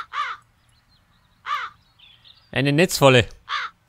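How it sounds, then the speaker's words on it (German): Crows caw in the video game Satinavs Ketten, two sharp separate calls followed by a louder burst of harsh cawing, with someone speaking briefly in between. "Aber erst kümmere ich mich um die Krähen."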